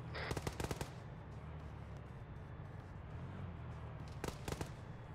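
Automatic rifle fire from a machine gun in the military video game Arma 3 comes as two rapid bursts, one at the start and one near the end. The shots are loud and close over a constant low rumble, with no talking.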